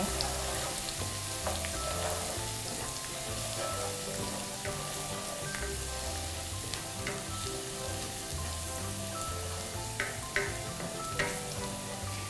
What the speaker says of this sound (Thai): กระเทียมนี้พอสับไว้แบบหยาบๆนะคะ โอเคใส่ลงไปเลย รอให้กระเทียมเหลืองหอมสักครู่นะคะ